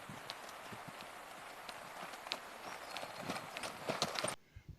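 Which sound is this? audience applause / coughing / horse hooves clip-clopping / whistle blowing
horse hooves clip-clopping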